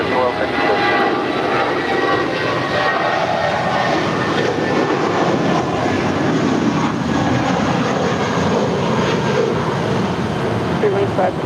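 An airliner departs from the runway at LAX with a broad, steady jet engine roar that holds loud and constant throughout, while radio chatter runs underneath.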